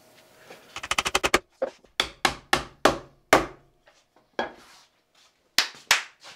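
Wooden dowels tapped into joints for a monitor stand build: a quick burst of about eight sharp knocks, then a slower series of separate loud hammer taps with short pauses, close and with no talking.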